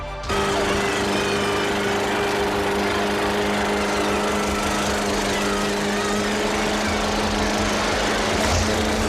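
A lawnmower engine runs in Sleepaway Camp III, starting abruptly and then holding a loud, steady, rattling drone for the whole stretch, with no voices.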